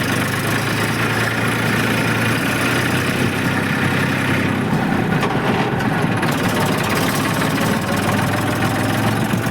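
A tractor engine idles loudly and steadily nearby in a village yard, a continuous low rumble with a rough, throbbing vibration and no speech.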